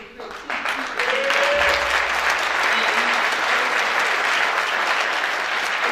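Loud, sustained applause from a crowd at a church ribbon-cutting ceremony, steady dense clapping that swells after the first second and continues throughout.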